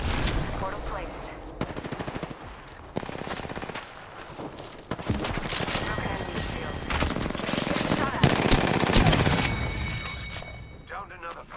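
Sustained automatic fire aimed at the player in Apex Legends, a loud barrage of rapid overlapping shots with brief pauses between bursts, game voice chatter mixed in underneath.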